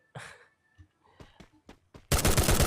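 Gunfire in a video game esports match: a few scattered sharp pops and thuds, then a dense, loud burst of rapid automatic fire that fills the end.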